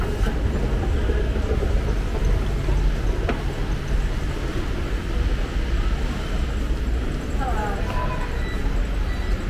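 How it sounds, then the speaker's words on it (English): A constant low rumble of a train in New Delhi metro station fills the space, with faint clatter and murmuring voices underneath. "This is New Delhi metro station."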